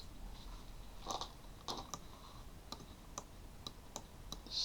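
Computer mouse clicking while working in 3DS Max: about eight or nine soft, sharp clicks at irregular intervals, close and quiet over a low hiss.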